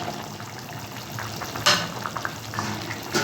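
Fried fish pieces go into a bubbling pumpkin and green mango fish curry, with a brief splash and clatter over a low, steady simmering hiss, close and fairly quiet.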